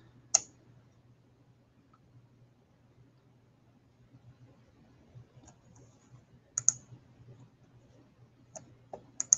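A computer mouse clicks a few times, sharp and isolated, with long quiet gaps and a faint steady hum behind; the clicks cluster more closely near the end.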